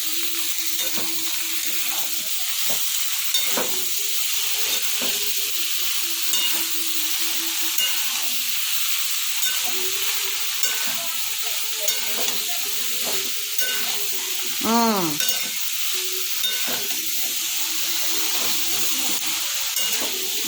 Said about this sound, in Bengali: ব্যাস, আমাদের মশলাটা ভাজা ভাজা হয়ে গেছে। এবার ঢেলে দিলাম সমস্ত সবজি।